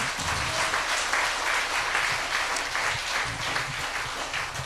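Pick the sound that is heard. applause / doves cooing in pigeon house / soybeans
applause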